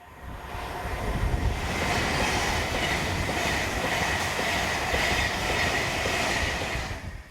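A Class 390 electric passenger train rushes past nearby, a broad steady roar of wheels and air building quickly, holding loud for several seconds, then easing off.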